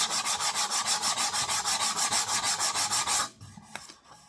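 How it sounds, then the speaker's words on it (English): A wooden desktop organizer edge is hand-sanded with 180 grit sandpaper, quick rhythmic rasping strokes, about five per second, close and even, then stopping into quiet handling noise. "I'm going to use some 180 grit sandpaper."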